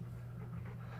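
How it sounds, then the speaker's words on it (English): Nervous dog panting in an underground cave: quick rhythmic breaths, close and steady, with no voices. "his dog begins suddenly panting nervously"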